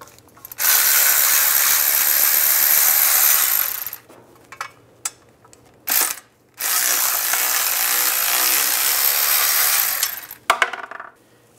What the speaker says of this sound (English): take these two bolts out, use a 10 millimeter socket